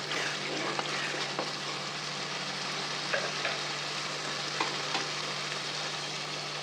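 Fish frying in hot oil, a steady dense sizzle that holds at an even level throughout, with a few faint pops and crackles rising above it and no voices.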